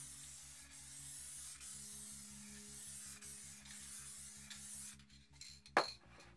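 Crackle effect spray paint hissing steadily from an aerosol can in short bursts under a constant low electrical hum, ending with a sharp clatter as the spraying stops.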